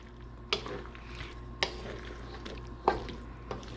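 Mixed vegetables with tofu being stirred in a pan, giving a soft low bubbling with three or four sharp clacks of a utensil against the pan, close and fairly quiet, with no talking.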